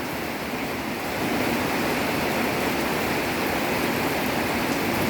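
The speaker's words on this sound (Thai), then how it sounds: "เพราะว่าเสียงฝนตกนะคะดังมากจนแม่น้องต้องตื่นเลยทีเดียวนะคะ" Dense, steady hiss of heavy rain pouring down, loud and unbroken throughout with no voices.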